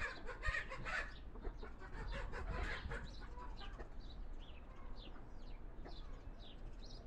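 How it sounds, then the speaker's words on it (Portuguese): A rooster clucks and makes short throaty calls nearby, with soft rustling and a few faint bird calls in a quiet outdoor setting. "Esse galo é invocado demais, ó."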